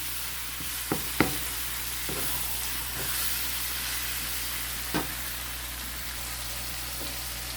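Minced meat for a cottage pie cooks in a pan with a steady, even sizzle, broken by a few sharp scrapes and taps of a utensil against the pan; no talking.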